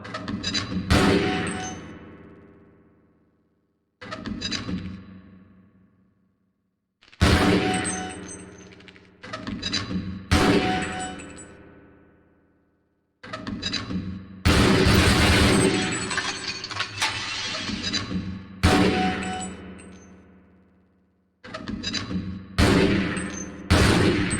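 Repeated bursts of gunfire and grenade blasts at a training target range in Half-Life: Blue Shift, loud and close, each volley ringing out and decaying before the next, with clanging and shattering targets and no talk.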